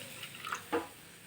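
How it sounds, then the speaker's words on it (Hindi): A small splash of water poured into an oily kadhai, a brief soft pour and trickle with a short burst near the end, quiet and close with no talking. "इसी में हमें थोड़ा सा पानी डालना है"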